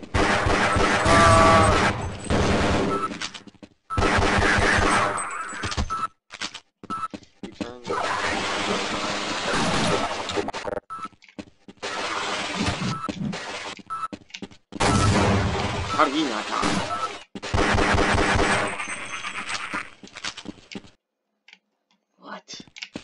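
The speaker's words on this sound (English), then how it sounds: "Why is the sentry gun shooting" A sentry gun in Half-Life fires in long, loud rattling bursts across the scene, pausing briefly between volleys, with game noise and a speaking voice in the background.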